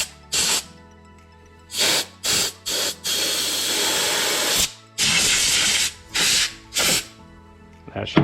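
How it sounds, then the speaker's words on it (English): Compressed air blasts through a snowblower carburetor in a series of loud, close hissing bursts, some short and a few held for over a second, separated by brief pauses. "So I'll take some air, just shoot it through there"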